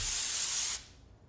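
An aerosol hair texturizer spray hisses in one steady, close burst of about three-quarters of a second onto styled hair, then cuts off abruptly into quiet room tone.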